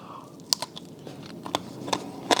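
Several sharp, crisp crunches from biting and chewing crackling porchetta skin flavored with fennel pollen and herbs, cooked on a Komodo Kamado barbecue, spaced irregularly and close up with no talking.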